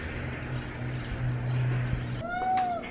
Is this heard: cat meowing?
yes